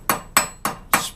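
The rounded end of a ball peen hammer strikes the end of a homemade rivet four times, sharp metallic taps at an even pace with quick ringing decay.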